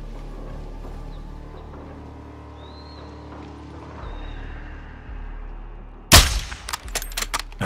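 In Call of Duty MWII, a low engine-like drone and quiet ambience give way to a sudden loud gunshot, followed by a rapid burst of several sharper shots crackling in quick succession.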